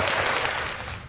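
A studio audience claps for guest Andy on a talk show, with a brief burst of dense, noisy applause that is fairly loud and fades slightly toward the end.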